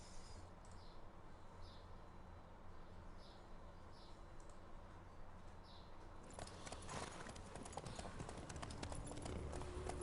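Geralt's horse walks in The Witcher 3, faint, evenly spaced hoofbeats over a steady ambient wash, with a busier burst of game sound toward the end.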